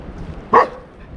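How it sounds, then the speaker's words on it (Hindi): A dog in Lachung, a mountain village in North Sikkim, lets out one short, sharp bark at middle distance over quiet outdoor background noise. "ये भूख रहा है कुत्ता भूख रहा है"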